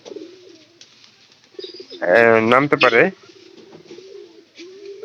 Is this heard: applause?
no